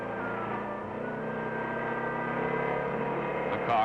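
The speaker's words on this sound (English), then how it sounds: "The car is driven under load through the gears and performance noted and checked." A vintage car runs under load through its gears on an indoor road-test machine in a car factory, giving a steady, close engine drone with sustained tonal hum and a brief higher-pitched sound right at the end.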